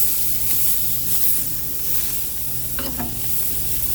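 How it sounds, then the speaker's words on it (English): Four burgers go down on a hot Blackstone griddle, producing a steady broadband sizzle and hiss close by, with a brief scrape or clatter near the end and no talking. "Put your burgers down."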